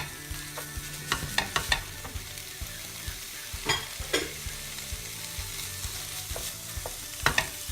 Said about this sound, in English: add the 250 grams of mince, and I'm going to brown that off with the vegetables